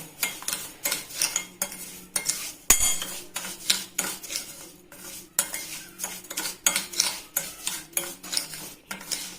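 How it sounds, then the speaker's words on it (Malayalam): A spoon mixes cake batter in a bowl for a stovetop bake done without an oven. It makes rhythmic clinks and scrapes against the bowl, roughly two strokes a second, close and clear, with no talking. "ഇനി നമുക്കൊന്ന് ചെറുതായിട്ടൊന്ന് മിക്സ് ചെയ്യാം"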